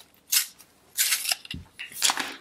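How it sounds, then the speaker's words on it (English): Pencil sharpened during a cherry blossom painting session: three short scraping, whirring bursts a second apart, close and fairly loud, with a brief low thump between the last two. "I have to sharpen my pencil."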